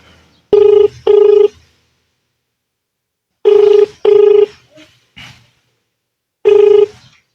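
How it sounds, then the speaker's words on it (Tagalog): A telephone ringback tone sounds during an outgoing call, loud paired electronic rings repeating in clear bursts with silent gaps between them, alone with no talk. "Ngayon po ay tatawagan po natin yung anak niya na nasa Laguna ngayon para makapanayan po natin at makausap ngayon."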